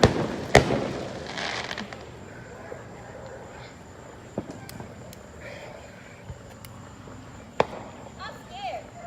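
Backyard fireworks set off in a few separate sharp bangs and pops spaced several seconds apart, fairly close, with people talking and reacting between the blasts.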